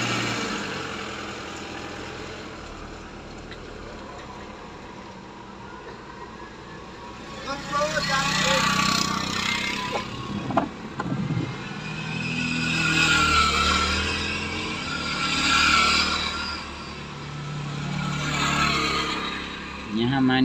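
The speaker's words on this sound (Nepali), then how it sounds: "यहाँ हामी बाटोमा हामी यस्तो जाममा परेका छौँ।" A traffic jam on the road to Osho park in Nepal, with idling engines rumbling nearby and motorbikes and cars revving and passing in waves, while people talk off and on.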